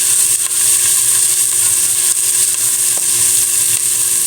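Onions sautéing in a pan for pork dinuguan, a steady bright sizzle close by with a few faint clinks of stirring and no talking.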